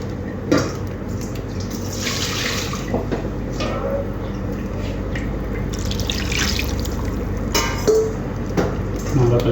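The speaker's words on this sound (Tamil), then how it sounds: "இதை அப்படியே கழுவி வச்சுருவோம்." Water runs steadily from a kitchen tap while a pot is washed in the sink during cauliflower kurma cooking, a continuous splashing flow with a few drips and clinks, and a voice speaks faintly now and then.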